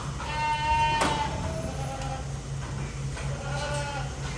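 Goats bleat in a milking parlour, several short wavering calls at moderate distance over a steady low mechanical hum, with no talk.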